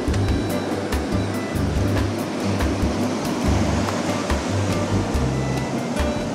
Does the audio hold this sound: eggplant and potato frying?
no